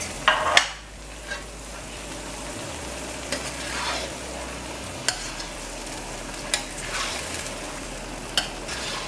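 Saijan bhaji with brown sugar and salt cooks in a pot, giving a continuous close sizzle and frying hiss. Occasional sharp spoon taps and scrapes come through, and no one speaks.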